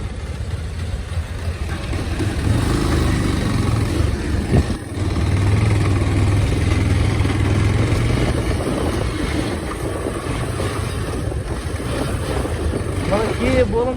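A motorcycle ridden in second gear gives a steady, loud mid-pitched engine drone throughout, mixed with heavy wind rush, with no clear breaks.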